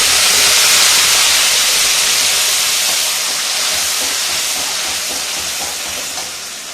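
Ground onion-tomato paste hits hot oil for paneer butter masala, producing a loud, dense sizzling hiss that starts strong and slowly eases over several seconds, close up with no speech.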